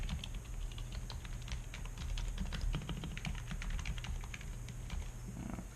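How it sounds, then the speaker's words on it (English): Keys being pressed one after another on a Topre keyboard, with soft, muted thocks in a quick irregular patter, close and quiet, against a steady background hum. "then you want to just press all the keys, make sure all of them work."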